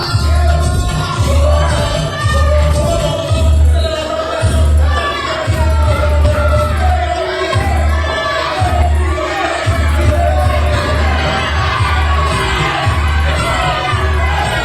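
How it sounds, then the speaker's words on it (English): Wrestling crowd at a New Age Wrestling tag team match roaring and booing loudly and continuously, a dense sustained wall of yelling and jeering with rhythmic low thumps underneath, no talk over it. "the crowd not silencing themselves, not quieting down here, just continuing to roar and boo louder"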